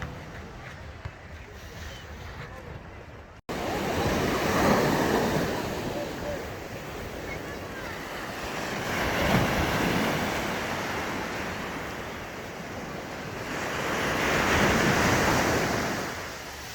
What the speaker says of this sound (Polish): To jest największa plaża w Europie?